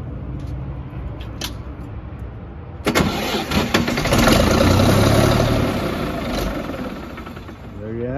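A Caterpillar 3306 diesel engine on a booster pump cranks briefly, then fires and settles into a loud, rough idle close by, with faint clicks beforehand.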